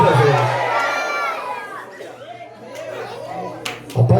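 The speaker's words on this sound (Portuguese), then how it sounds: "dê um grito de glória a Deus aí" A Pentecostal congregation at an evening church congress raises a loud shout of glory to God, crowd voices swelling and overlapping, then easing into scattered chatter before a fresh burst of cheering at the end.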